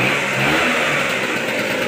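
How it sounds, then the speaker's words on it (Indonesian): A Vespa scooter engine runs steadily at idle, a continuous buzzing drone that is close and fairly loud, with no talking. "Sekarang motor hidup ya ini ya"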